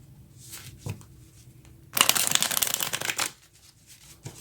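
Tarot cards are shuffled close up: a few soft taps and flicks, then a dense, loud riffle lasting about a second before quieter handling noises.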